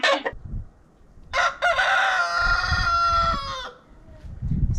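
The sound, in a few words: rooster crowing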